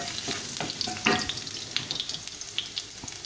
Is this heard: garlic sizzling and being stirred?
yes